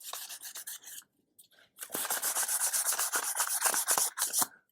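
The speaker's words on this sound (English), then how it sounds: "I am actually block sanding the crankshaft as we speak." Steady rasping strokes of block sanding on a metal crankshaft from a 1956 International Little Jewel, close and fairly loud, with a short pause and a couple of light scrapes before a long run of rhythmic rubbing.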